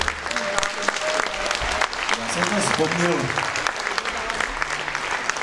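A crowd at a New Year's concert claps in a dense, steady clatter of applause that runs throughout, while someone talks over it.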